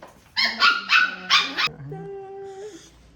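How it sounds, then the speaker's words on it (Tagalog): Puppies and dogs at home bark in a quick run of loud close yelps, then shift to a thin drawn-out whimper and whine. "Ingay ng mga aso."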